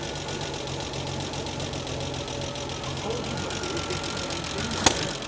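Triumph Spitfire GT6 engine running steadily at idle with a fault, a constant mechanical hum and tick throughout, with a sharp click near the end and people talking over it.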